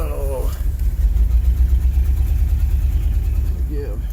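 A 1979 car engine runs steadily while driving down a road, a low continuous rumble under brief speech at the start and end.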